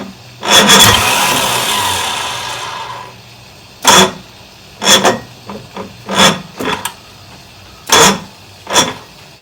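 A 1962 Johnson 75 hp outboard motor cranks on its starter, one long loud whirring turn followed by a series of short bursts, close and alone with no talk, and the engine never catches.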